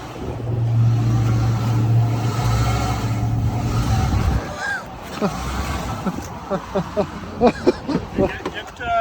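A 2006 supercharged Range Rover L322 engine runs and hunts, its idle rising and falling in a loud, close rumble before it fades under excited talk from people nearby.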